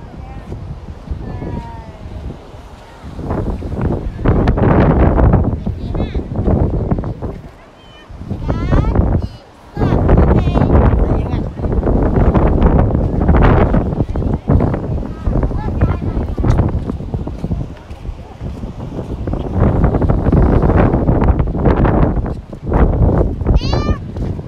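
Strong sea wind buffets the microphone on an open beach at Quy Nhon, a loud, continuous roar with gusty swells and brief dips, and a person talks over it throughout.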